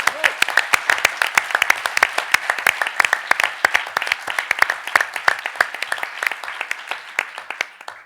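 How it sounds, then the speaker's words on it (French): Audience applause at a student pleading competition final in Paris, many individual claps forming a lively, uneven patter that is close and crisp, tapering slightly toward the end. "Mais je voudrais que nous applaudissions aussi Elliot"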